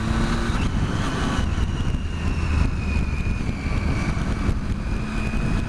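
A vehicle engine labours up a steep, narrow mountain road between Lake Vyrnwy and Bala, its drone steady and close with revs sagging slightly on the climb, no voices over it.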